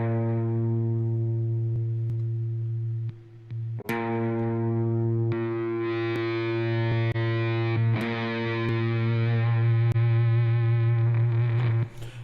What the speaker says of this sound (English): This is the Seymour Duncan Power Grid distortion pedal I'm using for this one.